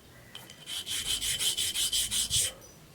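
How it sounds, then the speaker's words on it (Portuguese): A knife-sharpening file rasps back and forth across small cut mosaic pieces, about ten regular scraping strokes in a steady rhythm, close and fairly loud with no talk. "Então eu vou lixar elas agora aqui"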